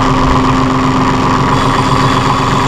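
A 2005 New Holland TC30 compact tractor engine runs at a loud, steady idle close up, with a constant droning hum and vibration and no talk.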